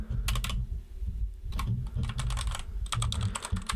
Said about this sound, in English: now that you've seen what the keyboard looks like and sounds like up close